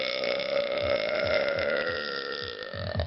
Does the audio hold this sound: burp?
yes